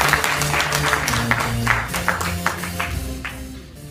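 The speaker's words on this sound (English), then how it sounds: "It's worth a bigger clap than that." An audience applauds at a talk, a steady wash of many hands clapping beneath a low sustained musical tone, fading slightly toward the end.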